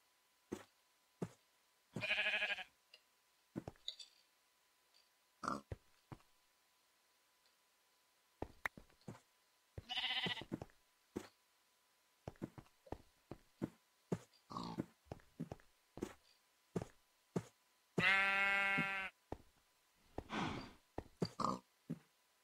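Sheep in the Minecraft video game bleat in three wavering, harmonic calls spread across the stretch, surrounded by frequent short clicks and taps of in-game footsteps and actions, with no talk.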